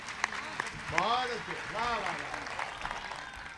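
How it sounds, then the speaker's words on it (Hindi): An audience at a Hindi-Urdu poetry recital and mushaira claps and cheers in a sustained, moderately loud burst of applause, with a voice speaking over it. "आपके उत्साह ने, आपकी तालियों ने बताया कि अंजुम जी"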